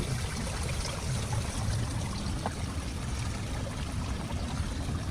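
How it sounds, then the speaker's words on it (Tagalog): Continuous rushing water trickles and splashes nearby from a cloudy, soapy-looking outflow into Manila Bay, a steady dense wash with no voices. "naririnig nyo naman din siguro yung lagaslas ng tubig"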